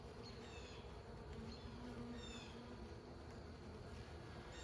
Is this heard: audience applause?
no